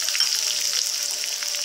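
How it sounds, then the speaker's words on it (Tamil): Mustard seeds, cumin, fenugreek and dried chillies temper in hot oil, a brief, steady, hissing sizzle with light crackle heard close and alone. "இப்போ எண்ணெய் காஞ்சிச்சு, நம்ம கடுகு, ஜீரகம், வெந்தயம் 3 போட்டுக்கலாம்."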